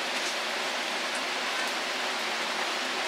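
Heavy rain falls at a farm during a week of downpours, a dense, steady hiss of water that holds without a break for a few seconds.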